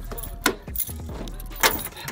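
A set of Pontiac car keys jangles close by in short metallic rattling bursts, alone with no talk over them.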